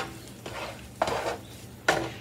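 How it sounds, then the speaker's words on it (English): A spoon scrapes and stirs a burger mixture with Worcestershire and soy sauce in a bowl, three distinct swishing strokes spaced about half a second apart, close and fairly loud with no talking. "Give that a quick stir."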